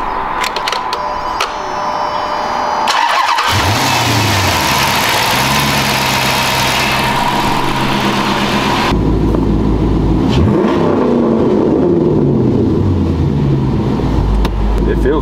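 A Dodge Charger engine starts up and runs with an uneven, rough idle that suggests misfiring, then revs up and settles, loud and close, amid other noise.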